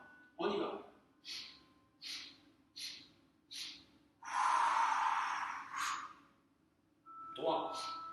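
Rhythmic breathing during a relaxation and wellness exercise, a series of short evenly spaced breaths followed by a longer audible exhale and another breath, quiet and close.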